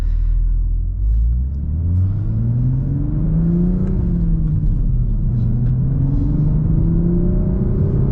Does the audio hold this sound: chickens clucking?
no